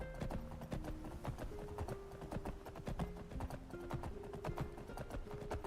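In Skyrim, horse hooves clip-clop steadily at a trot, close and clear, over a soft sustained musical tone.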